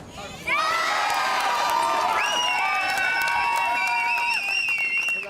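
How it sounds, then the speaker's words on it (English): A crowd at a league sports match erupts in loud, sustained cheering, high shouts and whoops that start abruptly and carry on for about five seconds without a break. "A lot of cheer from the crowd."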